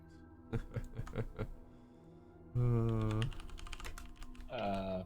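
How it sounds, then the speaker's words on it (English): Computer keyboard typing, tapping in quick bursts under a tabletop role-playing session, with voices and game music or effects sounding over the keys for much of the time. "sorry, I'm typing."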